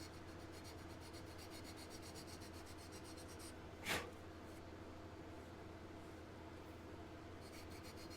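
Block sanding a model car body, a faint, steady rasping scrape with a rhythmic back-and-forth texture and one brief louder scuff midway.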